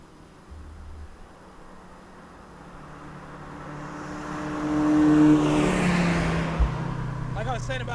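Mazda RX-7 convertible revving up while driving; a faint engine note climbs steadily in pitch and volume, peaks as a loud high wail, then eases off, with someone talking over it toward the end.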